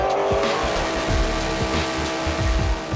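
A Cadillac V-Series race car with a 5.5-liter four-cam cross-plane V8 roaring at a racetrack, loud and close, with revs rising and falling and a touch of tire squeal.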